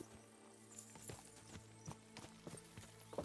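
Horse hooves clip-clop steadily in the medieval video game Kingdom Come: Deliverance II, an even walking rhythm of crisp knocks over faint background ambience and low music, with no talking.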